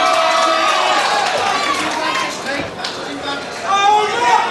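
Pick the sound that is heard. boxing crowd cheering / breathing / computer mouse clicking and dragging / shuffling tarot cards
boxing crowd cheering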